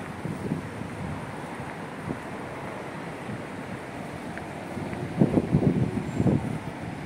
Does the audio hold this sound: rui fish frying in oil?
no